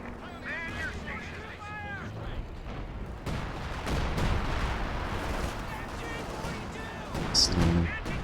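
Artillery barrage in a competitive team match of a war video game: a steady rumble of heavy blasts rolls on for several seconds, with a louder impact near the end, while a commentator talks over it.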